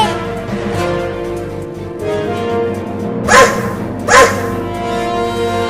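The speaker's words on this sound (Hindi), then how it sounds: "एक बड़ा कुत्ता मुझे खाने के लिए आ रहा है" A large dog gives two sharp barks a second apart over a steady background hum, fairly close and loud.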